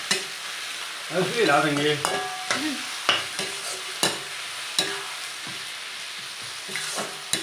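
Pahadi khada chicken being stirred and fried, with repeated scraping and clanking of a spoon against the pan over a soft sizzle, and a voice speaking briefly in between.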